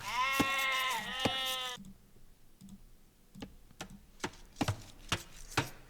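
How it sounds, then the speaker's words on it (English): Sheep in Age of Empires II bleat twice in quick succession, then a run of sharp mouse and keyboard clicks follows at irregular intervals. "They're still missing a couple of sheep here."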